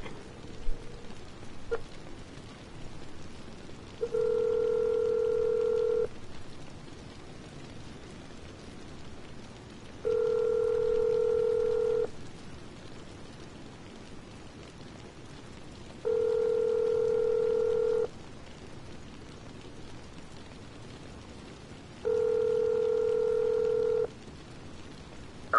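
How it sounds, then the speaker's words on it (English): A telephone rings in the video game Infamous Second Son: four evenly spaced ringback tones, each about two seconds long, separated by short pauses over a faint hiss. "Vizzo, pick up the phone!"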